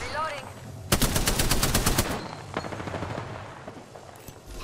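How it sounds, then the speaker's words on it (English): Enemy automatic gunfire in Apex Legends, a rapid burst of about a dozen loud sharp shots lasting about a second, followed by scattered quieter shots and game effects. "The enemies are shooting at you."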